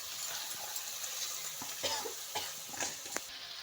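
Lentils tipped into a hot pan with potato and drumstick pieces, stirred with a spoon: a steady sizzle underneath scattered scraping stir strokes and light clicks, close and moderately loud, no talking.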